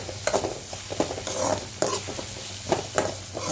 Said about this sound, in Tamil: அதையும் இந்த எண்ணெயோடவே நல்லா வதக்கிக்கலாம்.